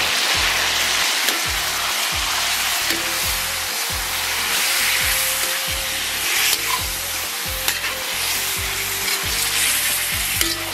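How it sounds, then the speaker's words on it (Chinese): Pork belly stir-frying with sauce in a hot wok, a loud continuous sizzle with steady rhythmic scraping and tossing strokes throughout, close up and with no talking. "咱们把这个继续给它煸炒一下，让咱们的肉质啊均匀的上色"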